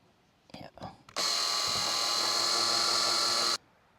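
Soft whispered speech comes first, then a cordless drill bores into plastic on a Fiat Ducato while fitting a ladder, a loud, steady high whine lasting about two and a half seconds before stopping abruptly.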